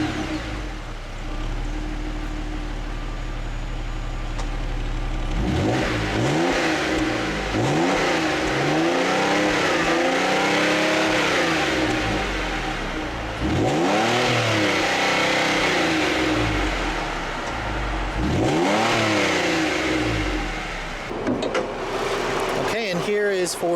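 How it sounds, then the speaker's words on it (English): A 2013 Ford Edge Sport's 3.7-liter V6 revs up repeatedly, with rising and falling exhaust roars over a steady low idle, loud and close throughout. "let me show you guys an exhaust clip really quick"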